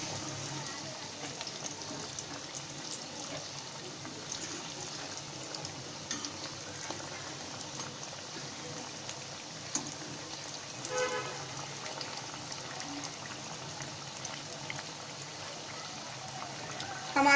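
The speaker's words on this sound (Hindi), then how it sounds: "अरबी को गोल्डन ब्राउन होने तक फ्राई करें।" Arbi (colocasia) pieces frying in hot oil, a steady close sizzle and crackle that holds evenly throughout.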